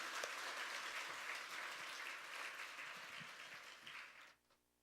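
A church congregation applauding during a Sunday service, a soft, distant, sustained patter of many hands that fades out abruptly at the close.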